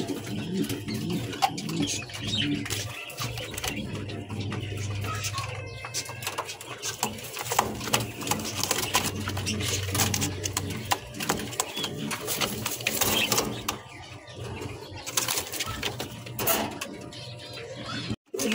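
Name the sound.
Lahori pigeons cooing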